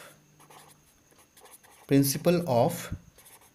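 Chalk or marker scraping across a board during a lecture on duality of join and meet operations, soft strokes at the start, then a lecturer's voice talks over the later part.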